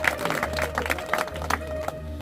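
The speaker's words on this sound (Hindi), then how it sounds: "ये तो ये भाई ताली बजा दीजिए।" Villagers clapping at a political campaign rally in Shyampura village, scattered uneven claps over a low hum, under a steady background murmur.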